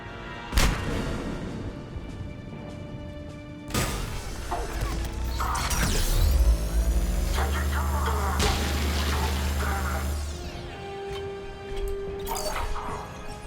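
The Particle Rifle in Mass Effect 3 fires in a long sustained beam with whirring, rising tones, broken by loud impacts and crashes of combat, with game effects layered around it.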